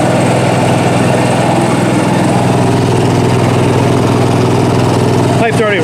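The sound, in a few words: newly installed RV generator running with exhaust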